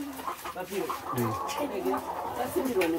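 Chickens cluck and chatter continuously at close range, with short overlapping calls and a few sharper squawks.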